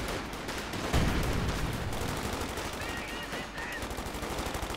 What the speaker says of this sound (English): An awful lot of light machine guns here.